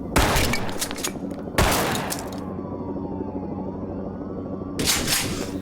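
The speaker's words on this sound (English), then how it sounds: "Fine, I'll start shooting anyway!" Dense gunfire in a school shooting drama, with bursts of rapid shots that fill the opening seconds, a quieter stretch with a faint whine, and then a renewed loud burst at the end. No speech.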